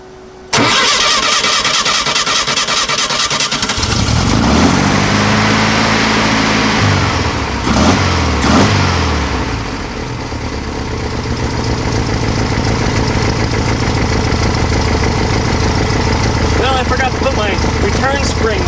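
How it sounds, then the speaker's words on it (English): Volkswagen Type 3 engine with dual carburetors cranks briefly, catches and settles into a steady, loud idle with a few revs, recorded up close in a workshop. "Let us go ahead and try to fire this thing up one more time."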